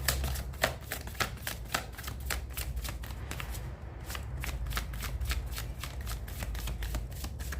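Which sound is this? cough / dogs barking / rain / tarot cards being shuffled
tarot cards being shuffled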